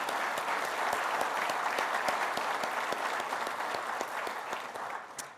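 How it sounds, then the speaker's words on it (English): A ceremony crowd gives a round of applause for honored Ivy League football players, steady dense clapping throughout that fades slightly toward the close. "How about a round of applause for these outstanding young men?"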